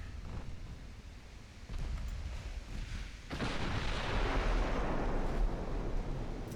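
Battleship guns firing a salvo in the naval strategy game Ultimate Admiral: Dreadnoughts off Singapore, a deep rumbling boom that swells into a sustained roar.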